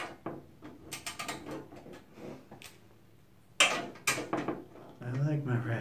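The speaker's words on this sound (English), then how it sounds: "I like my ratcheting stubby." Stubby ratcheting screwdriver working screws during a teardown of a Thermaltake Core V1 computer case, giving bursts of close, rapid clicking with pauses between, and a voice speaking near the end.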